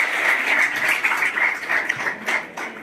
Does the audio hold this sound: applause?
yes